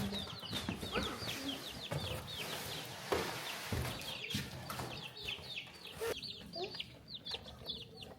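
Several chickens cluck and chirp steadily at close range, busy overlapping calls with rustling and a faint background voice.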